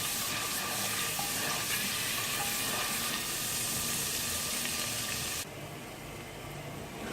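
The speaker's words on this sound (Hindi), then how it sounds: "और अदरक लहसुन के पेस्ट को भी आप 1 मिनट तक इस तेल में भून लें" Steady sizzling of ginger garlic paste frying in hot oil, a continuous crackling hiss that drops slightly in level near the end.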